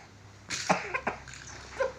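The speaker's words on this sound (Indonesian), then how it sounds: "tentang cara batuk atau bersin di tempat umum atau di rumah" A young schoolchild coughs into their arm, a couple of short, close coughs that break the near silence, one sharp burst followed by a softer second one.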